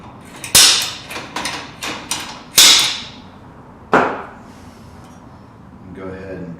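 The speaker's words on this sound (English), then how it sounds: "I'm going to punch it in the center." Center punch struck with a hammer in a workshop, a few sharp metallic taps ringing out close, then a quieter stretch with a faint voice at the end.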